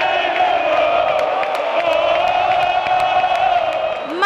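Flamengo fans in packed stadium stands chant and cheer together in a sustained, loud roar around their team's match against Barcelona de Guayaquil, with sharp whistles and shouts breaking through.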